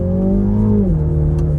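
A small, kart-like car that is still in break-in, with 875 km on it, revs up close and loud, holds briefly, then the engine note drops sharply as the revs fall.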